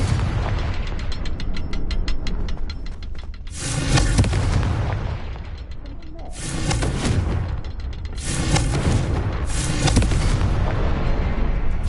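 A Confringo fire spell bursting in the Hogwarts Legacy video game, heard as loud, dense booming explosions in repeated surges over a continuous roar of game sound, with no talking.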